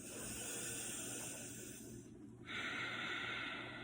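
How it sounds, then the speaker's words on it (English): A deep inhale during a diaphragm breathing exercise, a long steady airy breath close to the mic that pauses briefly and then draws in again more strongly. "Take a big breath."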